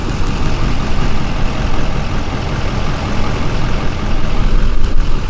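A Ford truck's engine idles after a remote start, a loud, steady low rumble with a constant drone throughout and no voices over it.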